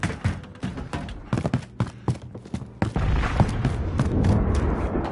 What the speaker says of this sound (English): You did not hear that big explosion?